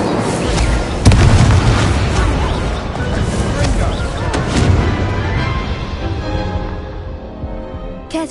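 Incendio spell in Hogwarts Legacy: a loud, close fiery blast with a sharp crack near the start, followed by a sustained roaring rumble that slowly thins out toward the end.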